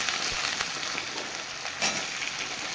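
Potatoes and carrots sizzle steadily as they fry in oil in a pan, a close, continuous crackling hiss with no talk over it.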